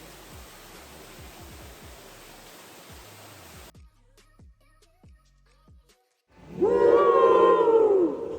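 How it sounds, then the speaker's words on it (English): Voices ring out inside a cave in Barbados, a loud resonant burst near the end echoing off the rock, after a stretch of steady rushing hiss and soft knocks. "You get the echo? It goes all the way up to the top."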